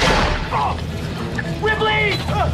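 Gunfire erupts in a film scene as a rebel shoots soldiers, with a loud opening boom followed by scattered shots and crashing noises, while a narrator talks over the action.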